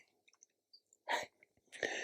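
A woman operating a camera sneezes twice in quick succession, soft and somewhat distant, with small clicks and breaths between the bursts in an otherwise quiet room.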